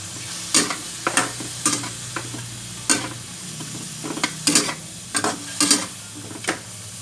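Stirring in a frying pan during a sauté with fish sauce: a soft background sizzle with about a dozen sharp scraping and clinking strokes at an irregular rhythm, close and fairly quiet.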